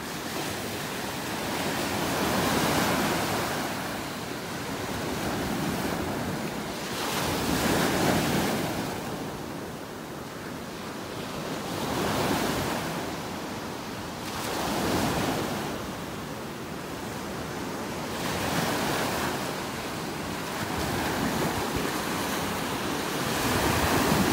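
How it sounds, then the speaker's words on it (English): Gulf of Mexico waves break steadily on a beach in North Naples, Florida, a continuous surf roar that swells and recedes every few seconds, with wind buffeting the microphone. "Loving these waves."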